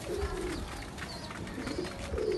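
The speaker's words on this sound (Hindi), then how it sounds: "बन टेल का कबूतर है माशाल्लाह," A Sialkoti pigeon, a small-boned bird with a band tail, coos close by in a few soft, low rolling calls, with background noise underneath.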